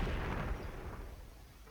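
Explosion from medium laser fire in the MechCommander 2 video game, a heavy muffled blast with deep low rumble that decays gradually over under two seconds, fairly quiet overall.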